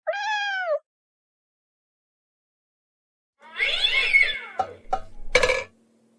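A pet cat named Mitzi gives one short, clear meow alone in a quiet room, followed after a pause by a burst of rustling, scuffling and sharp knocks.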